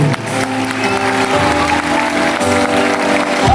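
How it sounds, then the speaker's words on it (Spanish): A church congregation applauding after a Spanish-language sermon, steady dense clapping from a large crowd filling the room, with sustained organ or keyboard tones and some reverberation underneath throughout. "Un aplauso al Señor."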